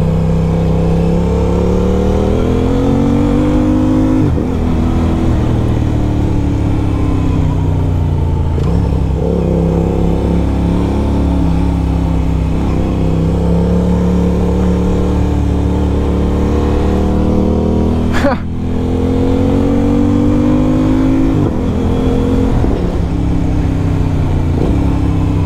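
An Aprilia RS660 2024 motorcycle engine runs loud and steady for the whole stretch, with a few rev swells and one sharp dip and blip near the end, unaccompanied by talk.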